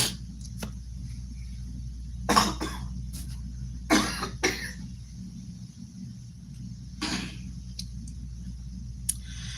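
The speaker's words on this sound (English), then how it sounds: "Now you see how I got a little cough, right?" A person with a cold coughs a few times, short husky bursts spaced apart with a throat-clearing sound, close by in an otherwise quiet room with a faint background hum.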